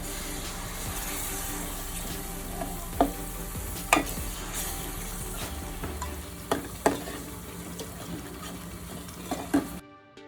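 Spices and coriander powder mixed with a little water fry in a pan for an eggplant and dried fish kuzhambu, giving a soft continuous sizzle broken by several sharp scrapes and knocks of a spoon stirring against the pan.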